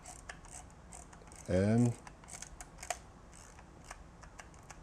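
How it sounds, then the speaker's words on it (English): Film advance on a Mamiya 645 medium-format camera being wound, a short burst of ratcheting mechanical clicks in an otherwise quiet room, with a brief spoken word nearby. "So just roll it till you feel it snug."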